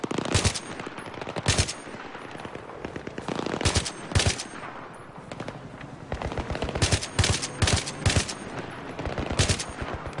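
Rapid bursts of machine gun fire in the video game Battlefield 3, loud and punchy, come in clustered volleys separated by short gaps of quieter background noise.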